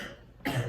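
A single short cough bursts out after a quiet, hushed pause, close and fairly soft, with no speech around it.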